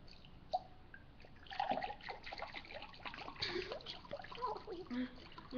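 Water spilling and trickling during a playful water challenge, with light dribbles and splashes scattered through the clip under ongoing talk and exclamations from nearby people.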